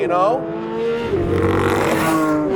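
Porsche 992.2 GT3 engine held at high rpm, a loud, sustained rising howl that fills the short stretch, with a voice briefly heard over it.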